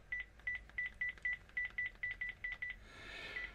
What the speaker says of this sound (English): Let's just make a quick dial up and call myself.